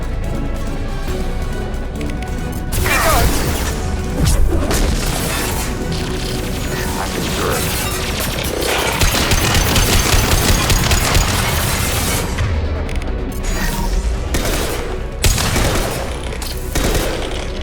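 Constant gunfire and explosions in the sci-fi video game Mass Effect 2: rapid bursts of weapon fire, crashes and booms packed densely together, loud and unbroken throughout.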